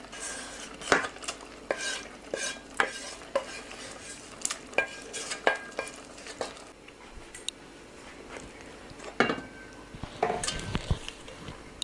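A metal spoon stirs fried roux into a pot of Transcarpathian lenten bean stew, with repeated scraping clinks against the pot and soft sizzling and bubbling, close up and with no talk.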